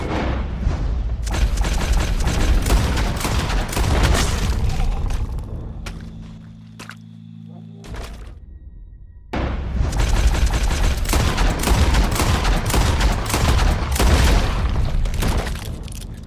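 Gunshots in the video game Red Dead Redemption 2, a loud dense barrage of rapid shots that stops for a few seconds of quieter rumble and ringing, then resumes just as heavily.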